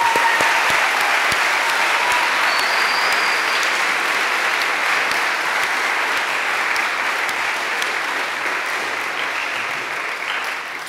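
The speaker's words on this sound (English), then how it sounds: "So let's give them a hand of applause." Sustained audience applause at a company values-day gathering, thick and even clapping from many people lasting about eleven seconds and easing slightly toward the end.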